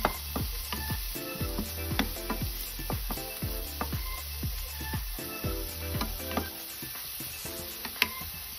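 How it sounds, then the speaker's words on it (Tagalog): Garlic and ginger sautéing in a pan for Bicol express, a steady close sizzle broken by frequent sharp scrapes and clinks of a spatula stirring against the metal. "Ito na din yung bawang at luya. Gigisa-gisa ko lang siya."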